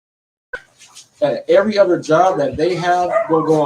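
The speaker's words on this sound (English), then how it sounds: "My dogs are going nuts." Several dogs in a house bark and yip excitedly, the bursts starting after a brief quiet and running continuously close by, with no talk over them.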